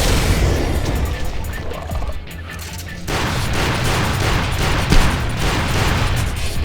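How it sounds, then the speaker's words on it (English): Rocket launcher fire and explosions in Hunter: The Reckoning, a loud rumbling barrage of blasts with a short lull midway before the booming resumes, one heavier burst standing out near the close. "shooting blind with the rockets is probably not the best thing to do"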